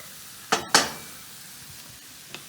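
Vegetables cooking down in a pan for a vegan shepherd's pie give a quiet sizzle, broken by two sharp utensil clinks near the start and a couple of lighter taps at the end.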